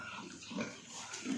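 Pigs grunt softly in a farm pen, two or three brief low grunts close by against quiet outdoor background, with no talk.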